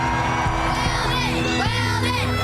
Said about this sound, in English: I want to hear the fans some more.